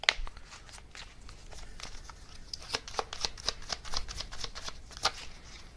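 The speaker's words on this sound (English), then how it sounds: "let me get a couple more oracle cards as well" Oracle cards being shuffled by hand, close and fairly quiet, with a series of crisp riffling and flicking bursts that grow busier midway, no talking.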